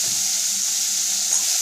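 Potatoes and peas with turmeric frying in a pan over low heat for a village-style spicy potato dish, a steady soft sizzle heard alone.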